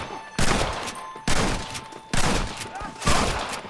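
Gunfire in a Red Dead Redemption gang shootout on MacFarlane's Ranch: four loud, sharp bursts of shots crack out at roughly one-second intervals, each trailing off before the next.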